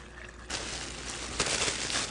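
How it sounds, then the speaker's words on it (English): Brine pours into a plastic bag holding a turkey, a close, steady splashing gush that starts suddenly and swells briefly louder partway through. "make sure that the bag is standing up nice and straight and pour the brine over it"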